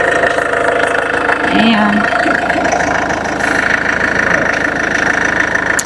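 A car engine idles roughly with a misfire, giving a loud, steady, slightly uneven rumble close by, while a voice speaks briefly over it.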